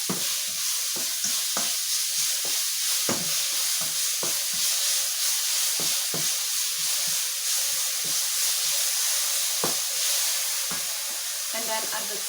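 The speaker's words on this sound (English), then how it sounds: "So stir it until brown." Food sizzles in a frying pan as it is stirred until brown: a constant bright hiss with frequent sharp scrapes and clicks from the spoon against the pan, close and steady throughout.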